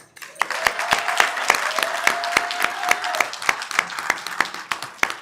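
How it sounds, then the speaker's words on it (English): A crowd applauds with dense, steady clapping for about five seconds, with sharp individual claps standing out and a faint whistle-like tone in the middle. "A round of applause, a pat on the back to all of us."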